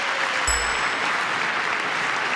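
Applause in the chamber of Congress during a presidential address, a broad wash of steady clapping from a large crowd, continuous and fairly loud for the whole moment.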